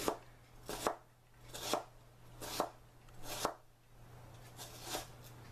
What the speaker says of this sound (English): Did not do a good job of cutting this onion for you.